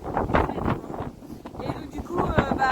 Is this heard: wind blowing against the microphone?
yes